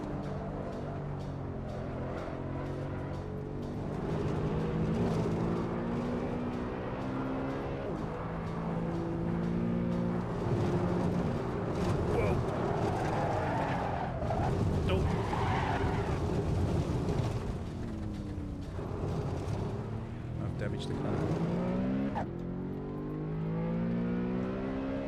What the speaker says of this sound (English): I need to stop skidding all over the place.